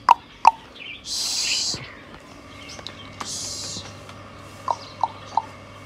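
Pigeons let out of their coop to eat grain and drink, giving short soft calls and wing flutters, with a few sharp knocks and bursts of background noise around them.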